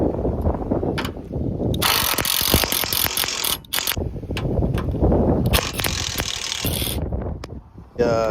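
A hand ratchet working bolts loose on a car's intercooler, rapid clicking pawl bursts repeating in several runs with brief pauses between, close and loud.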